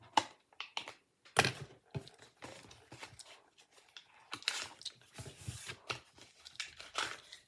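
Packaging for glue is torn open from the back with soft crinkling, tearing and rustling bursts close by, quiet and intermittent throughout.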